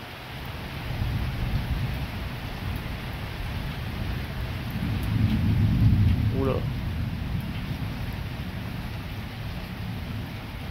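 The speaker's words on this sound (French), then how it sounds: "C'est un orage diluvien pour l'instant." Heavy thunderstorm with torrential rain, a steady dense hiss of downpour throughout with a low rumble swelling in the middle, while a person speaks briefly over it.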